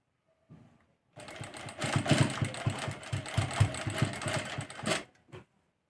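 A sewing machine runs close and loud in one continuous stitching burst while sewing piping onto a square neckline, with brief handling sounds before and after.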